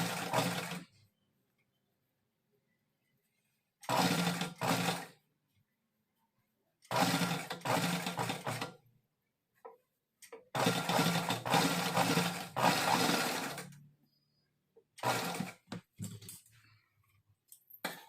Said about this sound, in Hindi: इस तरीके से हमें अपनी पाइपिंग को स्टिच करना है।